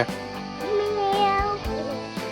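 A voice mimics a cat's meow, a drawn-out, wavering mew followed by a shorter one, fairly close and clear.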